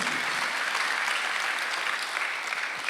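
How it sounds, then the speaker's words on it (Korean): Congregation applause during a Sunday church service, dense steady clapping from a crowd filling the room throughout. "박수 한번 하세요."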